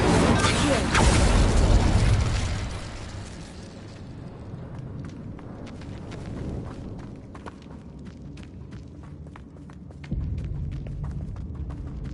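In the Hogwarts Legacy video game, Confringo and Incendio spells detonate in a loud, deep blast that rumbles and decays over a few seconds. Lighter clicks and footstep-like taps follow, then a second, softer thump near the end.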